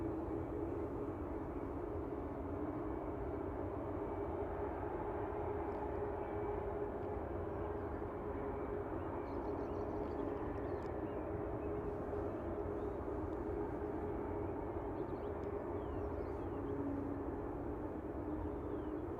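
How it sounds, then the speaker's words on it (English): An Emirates Airbus A380 arriving from Dubai comes in to land at Manchester Airport, heard as a steady, distant jet roar that holds evenly throughout with no talking. "So first A380 coming in today from Dubai."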